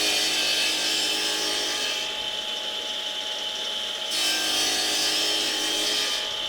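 Steady scraping and rasping as shallow grooves are cut into the inside of a wooden bat box, continuous with slight pauses, close and fairly loud.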